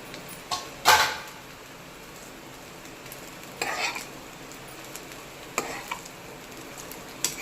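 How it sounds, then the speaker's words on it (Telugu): Curry leaf powder is being stirred into cooked rice in a pan, giving a few soft scraping stirs with quiet gaps between them and no talking. "ఈ కరివేపాకు పొడిని దాంట్లో కలుపుకోవాలి"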